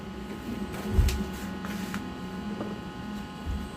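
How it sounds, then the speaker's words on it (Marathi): A sewing machine stitches the edges of a jute gunny sack being made into a shopping bag with a blouse piece. It gives a muffled, close mechanical whirr with a few soft thumps and no talking. "व्यवस्थित कडेकडे शिलाई मारून घ्यायची आहे."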